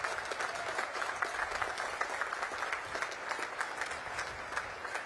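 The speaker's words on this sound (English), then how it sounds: "Please join me in recognizing and applauding these distinguished graduates." An audience at a Naval Academy graduation ceremony applauds steadily, a dense wash of clapping held at an even level throughout and heard from some distance.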